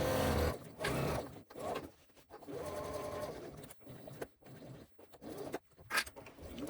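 Sewing machine stitching around the curved front panel of a crossbody bag, a close, steady mechanical whir running in bursts with brief pauses between runs.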